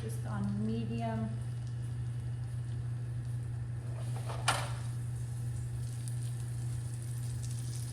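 Chopped garlic, about two cloves, sizzles in butter in a pan over medium heat as a steady, soft frying hiss under a low hum, with a brief voice early on and a single clink midway.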